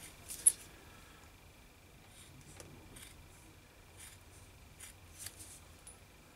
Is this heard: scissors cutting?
yes